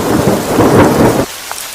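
Heavy rain pours steadily while thunder rumbles loudly beneath it in a cartoon horror story scene, then the storm noise drops away abruptly to near silence.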